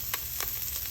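Shallot sizzling in hot oil left with almonds, a close, steady frying hiss broken by a few quick bright crackles and spatters.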